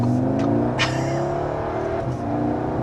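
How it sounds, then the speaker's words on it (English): A 2023 Audi S3 with its 306 hp engine revs up under acceleration, its exhaust giving a steady, close drone that rises slightly in pitch, with no voices over it. "This exhaust system is not bad, to say."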